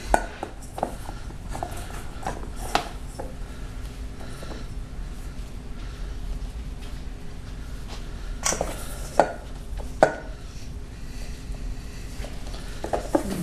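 Pizza dough ingredients and flour being mixed by hand on a board, heard as scattered soft thumps, scrapes and a few sharper knocks against the surface, close and fairly quiet with no talking.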